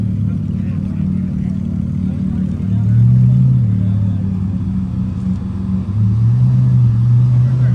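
A car rolls up at an exotic car show, its low engine rumble swelling and easing close by, with a couple of brief deeper revs while people talk over it.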